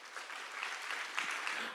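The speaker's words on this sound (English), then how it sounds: "Please give them a round of applause" An indoor audience at a Ukrainian government presentation gives a short, moderately distant round of applause, a steady wash of clapping hands that lasts under two seconds.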